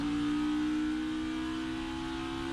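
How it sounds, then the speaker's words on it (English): A NASCAR Xfinity race car engine at Watkins Glen holds a loud, steady high-rpm drone with a strong sustained tone, running continuously without pause and close to the listener. "You hear all the RPMs that Allmendinger was turning in with his engine"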